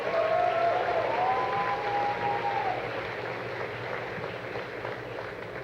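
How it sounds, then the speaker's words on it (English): Sustained crowd applause for graduating grade 12 students at a school event, a broad wash of clapping that starts loud and gradually eases, with a faint tonal whistle briefly riding over it. "Let's get a round of applause for everyone."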